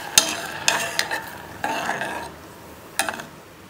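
Tea with cardamom and black pepper powder stirred in a pan, several brisk scraping stirs and clinks of a spoon against metal, close and fairly loud, with short pauses between strokes.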